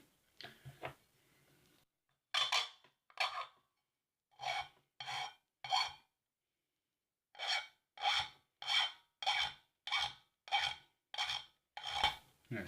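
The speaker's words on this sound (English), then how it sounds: "I'm just filing at an angle to take off more metal from the side" A metal file rasps at an angle across the metal of a homemade alcohol stove, in short repeated strokes, a few scattered at first and then a steady rhythmic run of about a dozen, close and clear with quiet gaps between.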